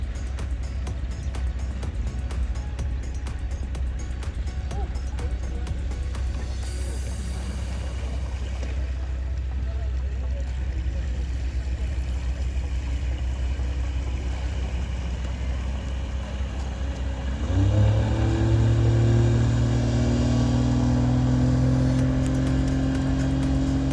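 A Pan's Marine N450 boat with a Mercury 30HP outboard motor runs on calm water in foggy weather, a steady droning hum that swells louder and rises in pitch near the end as the engine revs up.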